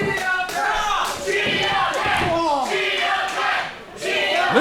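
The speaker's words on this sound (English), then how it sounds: "Listen to this crowd." An angry crowd at a live professional wrestling show, loud sustained jeering and shouting with rising and falling roars and yells throughout, a few dull thuds mixed in.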